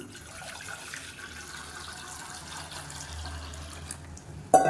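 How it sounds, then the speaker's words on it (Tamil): About a litre of water is poured into a pan in a home kitchen, a soft steady trickle and splash at low level, ending with a brief louder clunk. "இதில் வந்து 1 லிட்டர் அளவுக்கு தண்ணி சேர்த்துக்கலாம்"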